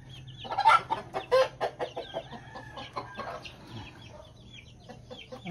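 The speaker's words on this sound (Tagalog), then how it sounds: "Ang mga inahin guys, nagsili sa ilahang sisiw." Mother hens on a farm clucking among their chicks, a run of close, loud rhythmic clucks that tapers to softer calls, with a low steady hum underneath.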